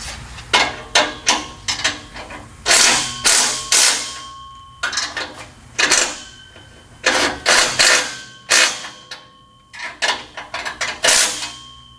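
Ratchet wrench tightening exhaust bolts on a Subaru Impreza with an EJ25 engine, loud close bursts of rapid clicking repeated in several rhythmic strokes with short pauses between.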